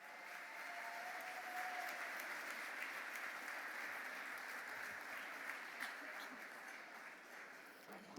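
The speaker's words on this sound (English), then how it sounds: "Let's give her a huge round of applause." Steady, dense applause from a gala audience welcoming a woman to the stage, sustained clapping at a fairly distant, even level throughout.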